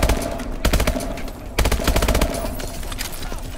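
Rapid bursts of automatic gunfire in Call of Duty Advanced Warfare, loud, close, sustained rattling volleys with short pauses between them and no talking.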